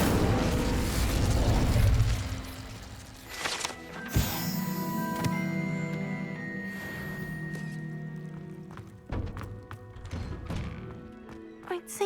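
Fire spell cast in Hogwarts Legacy: a heavy whooshing burst and boom open the moment, followed by crackling, thudding impacts and scattered pops, with a second sharp burst later and sparse mechanical clunks under a low ringing tone.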